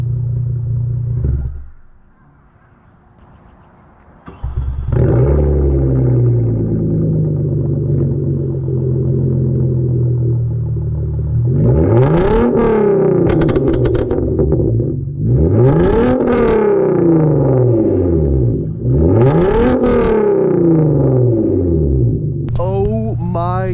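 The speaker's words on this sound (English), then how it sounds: "if you rev it up, it will pop a lot" Warmed-up Hyundai Genesis Coupe with downpipes, test pipes, catback exhaust and intake, idling loudly before four hard revs in a row, each flaring up and falling back, with sharp exhaust pops crackling at the end.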